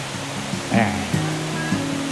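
A small waterfall stream at the Khlong Thom hot spring in Krabi gives a steady, soft rush of flowing water that sits under a person talking nearby.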